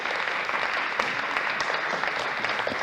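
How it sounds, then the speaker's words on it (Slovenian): Applause from an audience at a Slovenian award ceremony celebrating a third-place finisher, a steady dense clapping that fills the whole moment at moderate loudness with no talk over it. "Urška, en aplavz za Urško."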